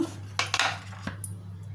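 A knife cuts a quarter kilo of paneer into pieces on a board for paneer masala curry, giving a few sharp, close clicks and taps against a steady low kitchen hum.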